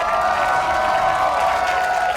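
Large arena crowd at a North American League of Legends esports match between Counter Logic Gaming and Cloud9, clapping and cheering in a continuous, steady roar.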